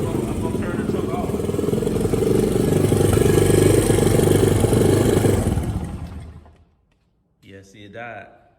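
A 2001 Honda XR100 motorcycle engine running with the choke on, a loud close idle that swells slightly before dying away around six seconds, followed by someone speaking.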